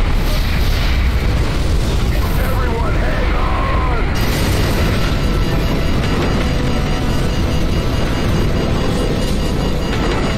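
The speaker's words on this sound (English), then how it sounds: "And then an explosion occurs, after which, helicopters are in distress." A loud, continuous explosive roar in the Call of Duty Modern Warfare video game that fills the whole stretch with dense rumbling, with no clear single blast standing out.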